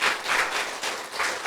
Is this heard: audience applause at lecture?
yes